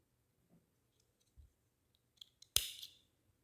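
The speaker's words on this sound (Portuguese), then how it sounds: "Vou fazer uma correntinha, cortar o fio." Scissors snip through crochet yarn once with a sharp, close burst, preceded by a few faint clicks and small handling sounds in a quiet room.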